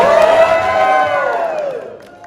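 A crowd at a costume contest at Wild Wild West Con cheers and whoops loudly, a full swell of voices that slowly tapers off over a couple of seconds.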